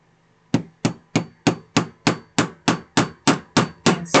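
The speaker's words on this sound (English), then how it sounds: "Now I can take my hammer" A hammer taps a thumbtack into a placemat to hold twine, sounding as about twelve sharp, evenly spaced, close strikes in a steady rhythm with no talking.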